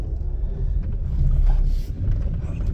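A car engine runs again after repair, giving a close, low rumbling drone that swells slightly midway and stays steady.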